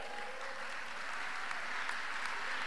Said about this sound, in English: I want us to clap unto God again and appreciate him.